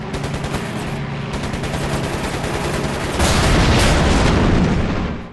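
Sustained rapid machine gun fire from aircraft in the World War II flight game Air Conflicts: Secret Wars, a dense continuous rattle that grows louder and heavier partway through, with no talking.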